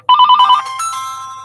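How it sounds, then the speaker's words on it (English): A telephone bell rings in a quick trilling burst, loud and close, then trails off into a fading electronic tone with no voices. "I'm gonna answer this phone"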